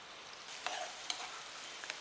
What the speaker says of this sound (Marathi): कांदा आपला चांगला फ्राय व्हायला पाहिजे